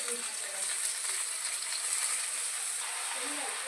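Dill leaves (shepu) fry in a pan with onion, garlic and chili, giving off a soft, steady sizzle and hiss that runs throughout at a moderate, even level.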